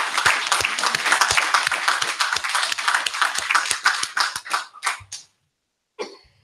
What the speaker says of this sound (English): I'd like to give all these brothers a round of applause for everything they've done